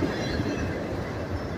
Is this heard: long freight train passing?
yes